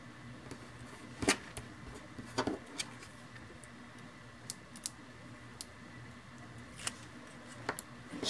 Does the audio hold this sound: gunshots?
no